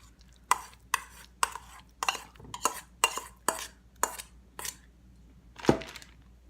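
Cooked broccoli tossed with butter and cheese is stirred in a pot with a utensil, about a dozen distinct clinking scrapes in a steady rhythm, close and clear with no speech.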